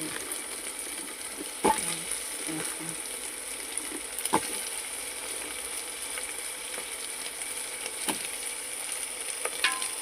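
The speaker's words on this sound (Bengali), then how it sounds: "এটা কষানো হয়ে গেছে, এটা কষানো হোক" Taro and meat being sautéed in a pan, a continuous moderate sizzle with several sharp scraping knocks of a spatula against the pan at irregular intervals; no voices.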